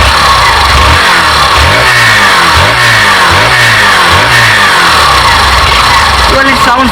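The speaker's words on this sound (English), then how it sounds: "it's time to hear how this bike sounds. A soft and a meaty bassy feeling. Let's go high up the revs." A Hero Glamour XTec 125 motorcycle engine revs loud and close in repeated rising bursts, each climb falling back before the next, with a deep throaty tone throughout.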